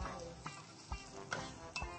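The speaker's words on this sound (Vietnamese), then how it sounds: "Trước tiên chúng ta sẽ xào hành tím, tỏi, ớt hiểm băm và sả như vậy." Shallots, garlic, minced bird's eye chili and lemongrass stir-fried in hot oil, with a steady low sizzle broken by several sharp spatula scrapes and clinks against the pan at a regular pace.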